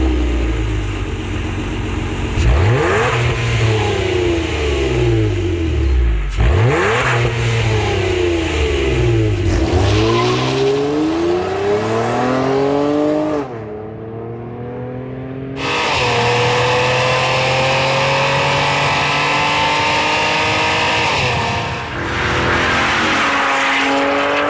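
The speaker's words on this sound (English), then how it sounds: "The Borla exhaust that is made for this car sounds phenomenal in my opinion." A Honda Accord fitted with a Borla aftermarket exhaust revs repeatedly from idle, each loud, close rev swelling and falling back, with a short settle to a quieter idle partway through.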